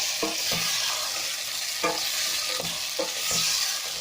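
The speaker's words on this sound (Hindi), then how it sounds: "अब आलू को भी हल्का सा फ्राई करें" Potatoes frying in a pan with salt and crushed chili: a soft, steady sizzle broken by a handful of spaced stirring scrapes, close by and without any voices.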